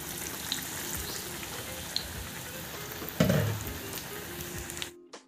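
Vada frying in hot oil gives a continuous close sizzle, then a louder hiss burst as a fresh piece drops into the oil. It cuts off at the end.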